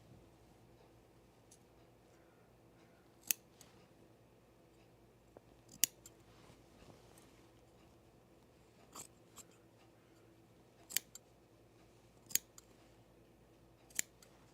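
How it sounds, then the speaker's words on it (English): Scissors snipping through pre-quilted jacket fabric, one layer at a time, with sharp isolated cuts spaced a few seconds apart over a quiet room background. "And I always cut my layers separately"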